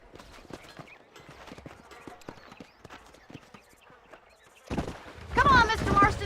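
Hooves clip-clop in the Western video game Red Dead Redemption, a steady trotting patter of horses. Louder rumbling noise and a voice join near the end.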